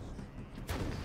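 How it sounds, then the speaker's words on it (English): A single explosion goes off in Warhammer 40k Space Marine, a sudden loud blast that bursts out about halfway through and rumbles briefly over a low game background. "Explosion."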